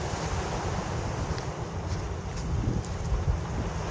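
Strong sea waves roll in while wind buffets the microphone at a shoreline fishing spot, a steady, loud roar of surf and gusts with no voices.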